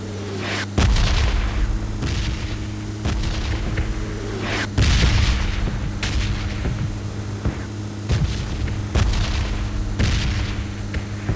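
Gunfire and explosions from PUBG Mobile gameplay: repeated sharp shots and heavy booms, some loud and close, others more distant, recur every second or two over a steady hum of game ambience.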